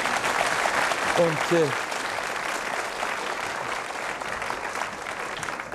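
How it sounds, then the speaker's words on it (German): Studio audience applauds on a 1970s German TV game show, steady dense clapping throughout, with a voice briefly speaking over it near the start. "So, Applaus für ihn auch."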